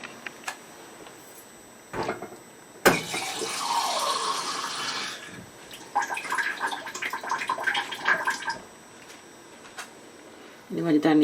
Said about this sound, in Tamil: இன்னும் கொஞ்சம் தண்ணி போடுறேன்.